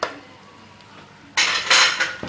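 Boiled peas and spices are stirred together in a bowl, first quiet scraping, then a burst of clattering utensil-against-dish knocks and clinks close by, with no talk.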